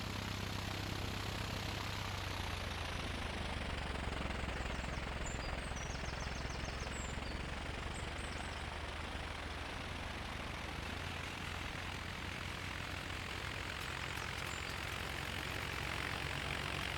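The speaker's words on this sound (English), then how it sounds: "Runway 27, cleared for takeoff" Propeller aircraft taking off from runway 27 in the Tower! Simulator 3 airport game at Tallahassee International, a steady broadband engine roar that holds loud and even throughout with no talking.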